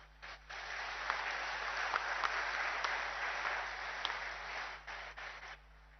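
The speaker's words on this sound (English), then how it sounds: "Have some claps." An audience in India claps during the presidential inauguration of an integrated cryogenic engine manufacturing facility. The applause is fairly quiet and slightly distant, with a steady wash of clapping that swells and eases, plus a few sharper individual claps.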